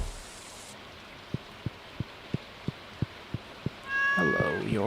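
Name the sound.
black cat meowing in Stardew Valley video game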